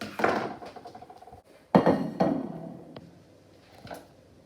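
A spatula scraping and knocking against a pan while lifting enchiladas, with a few clattering metallic thunks and scrapes in short bursts, close by.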